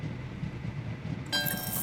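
Trains running in the video game Train Valley 2, a soft continuous rolling rumble with a brighter metallic layer coming in near the end, steady and moderately faint with no talking.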